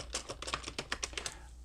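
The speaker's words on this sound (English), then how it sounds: "And then now I start typing" Quick, uneven keystrokes on a computer keyboard while typing into Visual Studio Code on Windows, a close, steady run of clicks lasting under two seconds with no voices.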